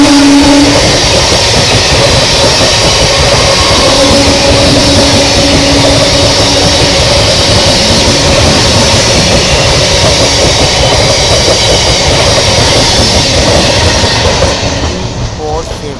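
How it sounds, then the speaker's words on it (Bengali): A Sealdah–Lakshmikantapur local train rolls into Sonarpur station with a loud, continuous rumble and clatter of wheels, easing off at the very end. "4730 down Sealdah Lakshmikantapur local Sonarpur rail স্টেশনে প্রবেশ করছে"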